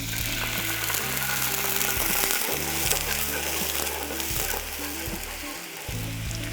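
Garlic sizzles in a hot pan, a dense crackling fry with intermittent low scraping and stirring knocks, close and continuous without speech.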